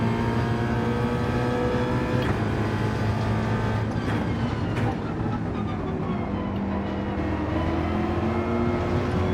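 A Mustang GT3 race car engine roars continuously at Watkins Glen in a racing game, loud and steady with rising and falling revs through gear changes, heard under a voice talking.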